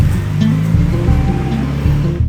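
A manual-transmission car's engine revs up as the driver applies gas, making a loud, low rumbling drone with pulsing changes in pitch over about two seconds.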